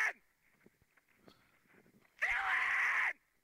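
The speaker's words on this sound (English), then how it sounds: "Oh, that's him. That's him screaming." A screaming character in a kids' video game lets out one loud, sustained shriek of just under a second, coming after quieter scattered game sounds.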